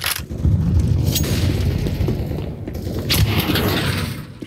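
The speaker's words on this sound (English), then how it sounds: "Grenade out." A grenade blast in Counter-Strike lands as a loud, broad boom with rumbling low-end tail, followed by scattered thuds and crackling gunfire in a busy match.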